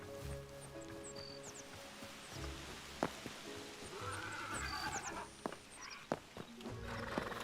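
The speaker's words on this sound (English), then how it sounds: "Horse." A horse, a foal, neighs in the video game Hytale amid a busy game soundscape of hoof clip-clops, footsteps, chirps and a low background hum, with sharp knocks scattered throughout.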